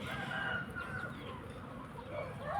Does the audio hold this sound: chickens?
yes